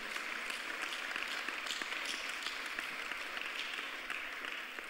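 A church congregation applauds during a French-language worship service, steady and fairly quiet clapping from many hands filling the room.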